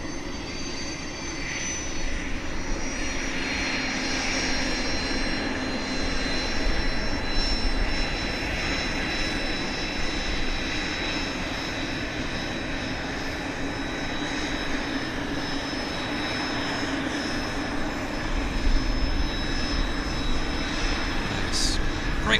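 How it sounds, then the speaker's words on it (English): An Avro RJ Jumbolino jet at Vancouver Airport gives off a sustained jet engine roar with faint high whines, steady and fairly loud throughout, while distant radio chatter comes and goes in the background. "There's our Jumbolino."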